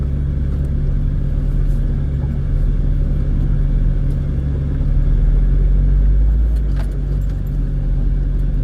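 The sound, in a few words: off-road vehicle engine driving in low gear down a wash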